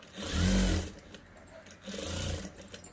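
A sewing machine stitches along the neck hem of a blouse, running in two close, steady bursts separated by a short pause, with no talking.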